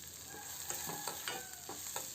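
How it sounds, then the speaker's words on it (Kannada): Onions frying in a pan for a raw field bean stir-fry, with soft steady sizzling and a few light stirring scrapes recurring through the quiet kitchen, with no talk. "ಈರುಳ್ಳಿ ಚೆನ್ನಾಗಿ ಫ್ರೈ ಮಾಡ್ಕೊಬೇಕು"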